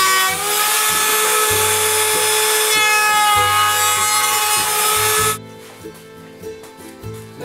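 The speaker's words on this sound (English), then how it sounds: "So this one's going to be routed right here, and this one's going to be routed right there." Router cutting a wooden workpiece, a loud, close, high whining roar that holds steady for about five seconds before cutting off, followed by quieter handling knocks and the motor winding down.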